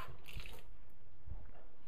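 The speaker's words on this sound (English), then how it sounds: "Wash my hand again here." Steady water running from a kitchen tap as hands are rinsed during food preparation, a continuous close splashing hiss with a couple of soft thumps, no talking.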